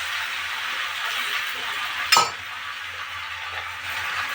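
Spices sauté in a hot pan with a soft, steady sizzle. One sharp metallic clink from a utensil striking the pan cuts in midway, and there is no speech.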